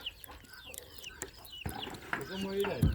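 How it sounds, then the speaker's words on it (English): Chickens clucking on a chicken farm, with repeated short clucks and chirpy calls coming close and fairly loud, and people talking nearby over a busy farmyard background. "This is Hope's Chicken Farm"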